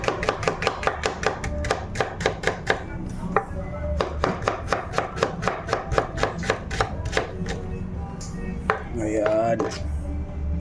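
Rapid, steady knife chops on a board as onion is cut for a fried chicken skin dish, loud and close, with dish clatter near the end.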